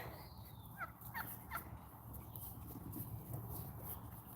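Faint, distant turkey gobbling in a couple of quick warbling bursts, over a steady low background hum outdoors.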